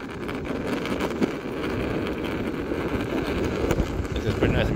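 A Backfire G2T electric longboard rolling along a trail, a continuous rumbling road roar with strong wind buffeting across the microphone.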